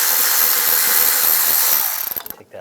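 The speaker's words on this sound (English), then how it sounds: "Just use a 10mm socket." A power tool with a 10mm socket spins out a bolt from the rear main seal cover of a 2007-2013 Chevy Silverado, a loud whirring run that sputters into short bursts and stops.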